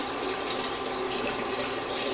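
Hot water running from a kitchen tap while filling for soup, a steady close splashing gush without a break and with no talking.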